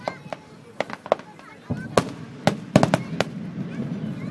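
Fireworks bursting at the Tenryugawa Hanabi fireworks festival in Japan in 2010, a series of sharp booms and crackling pops at irregular intervals over a crowd murmur, with people talking and exclaiming nearby.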